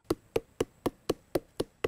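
A tree stalk is pounded to make its sap, tuba, flow: eight sharp, evenly spaced knocks in quick succession, close and crisp with quiet gaps between strikes.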